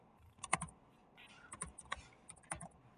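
Typing on an unfamiliar computer keyboard, a few scattered clusters of crisp key clicks with pauses between them, close and fairly quiet in an otherwise still room.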